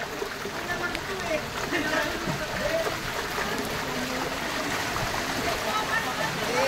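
Rushing floodwater pours past in a steady, broad roar, fairly close and continuous, with voices speaking over it.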